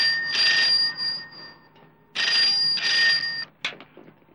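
An old telephone bell rings in two long bursts, loud and near, then the handset clatters as it is picked up; no one speaks.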